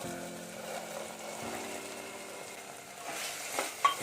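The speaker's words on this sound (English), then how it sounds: "It's time we put in the rajma" Rajma beans go into a frying spice paste and get stirred, giving a faint, steady sizzle with soft scraping of a spoon in the pan, quiet and close with no talk.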